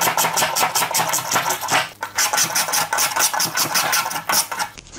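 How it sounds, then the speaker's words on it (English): A spokeshave takes quick repeated rasping strokes along a wooden faux beam, close and fairly loud, each pass a short scraping burst in an even rhythm with one brief pause. "So I'll pay a little more attention to the spoke shaving process."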